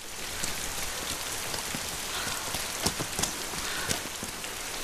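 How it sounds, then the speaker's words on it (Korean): A sudden rain shower in a film scene pours steadily onto a surface, a dense, even hiss with scattered louder drops, with no voices. "얼마 후 갑자기 비가 오는 날, 준기는 아내가 우산을 가지고 오는 것을 기다리고 있습니다."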